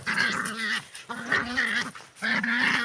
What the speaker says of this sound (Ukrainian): А ну гавкай. Гавкни.